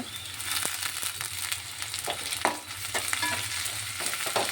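Garlic, curry leaves and coriander frying in a pan, a steady loud sizzle with repeated scraping stirs of a spoon throughout, no talking.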